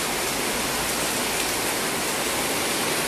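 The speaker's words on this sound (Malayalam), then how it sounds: "അപ്പോൾ അതേ മഴ തുടങ്ങിക്കഴിഞ്ഞ്" Heavy rain falls steadily outdoors in cold, windy weather, a loud, dense, continuous wash of noise with no voices over it.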